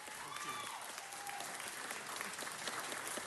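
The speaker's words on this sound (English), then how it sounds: "let's give them a big round of applause congratulating them for their work." An audience at a city council meeting claps in a steady, even burst of applause, faint and somewhat distant, with a voice briefly audible over the clapping.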